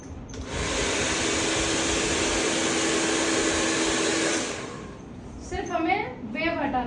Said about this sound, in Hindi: नॉर्मल आप फटाफट ब्लो ड्रायर करो।